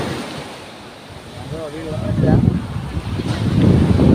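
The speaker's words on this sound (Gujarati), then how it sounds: "તો આપણે જોઈ શકો છો દરિયા કિનારો" Waves wash in at a seashore with gusty wind buffeting the microphone, the surf swelling louder toward the end, and brief distant voices in the background.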